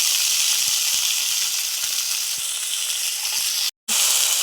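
Potato pieces with chili thecha sizzling steadily in hot oil, a loud, close, continuous frying hiss with a brief drop to silence near the end.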